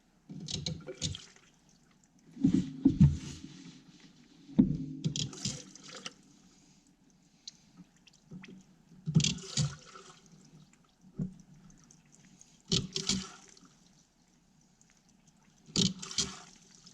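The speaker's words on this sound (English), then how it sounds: "So I pretty much just poured straight fuel in there. That's rinsing any nasty crap out." Straight fuel sloshes inside dirt bike engine cases on a budget KTM 700 rebuild, coming in a few separate short bursts of liquid swishing and splashing with quiet gaps between, fairly close and fairly soft.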